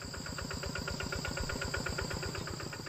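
A Kubota tractor engine idles steadily nearby at a forest clearing, its rapid, even diesel chugging unbroken throughout with a faint high whine above it.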